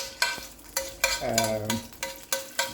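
Garlic partly frying with mustard in a pan, close stirring strokes with sharp rhythmic scrapes about every half second over a soft sizzle, and a short low voiced murmur in the middle.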